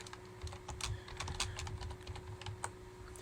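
Close, soft computer keyboard typing taps out a quick irregular run of keystrokes while code is entered, over a faint steady electrical hum.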